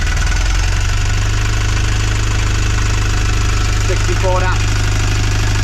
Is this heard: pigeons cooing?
no